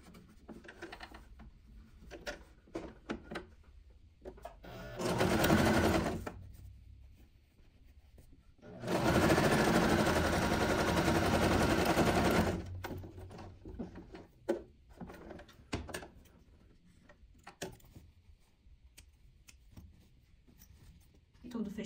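A sewing machine stitches the closing seam of a fabric pocket bookmark, with two sustained runs of steady motor whir around 5–6 s and 9–12.5 s, separated by quieter handling and fabric rustle; no talk during the stitching.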